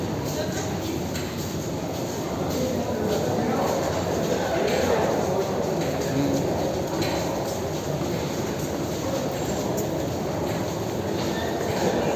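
A local train rumbles steadily with broadband rail noise, a continuous low roar throughout, heard from close by as if at a platform or aboard, at Chennai Central railway station in India.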